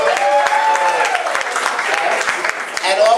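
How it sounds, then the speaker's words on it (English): Applause from a town hall audience in the Bronx fills the room, steady and loud throughout, with speech mixed in over it. "Brian Cook, give him a round of applause."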